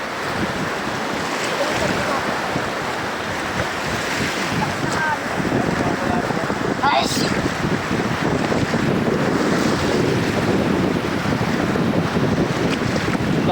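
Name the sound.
strong waves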